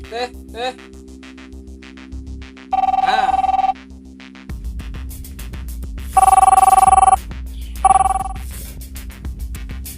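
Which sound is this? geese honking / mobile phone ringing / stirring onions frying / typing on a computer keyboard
mobile phone ringing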